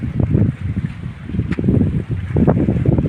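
Strong seaside wind buffets the microphone in loud, continuous gusts, a low roaring rumble with boat or surf-like wash along the shore, rising and falling throughout.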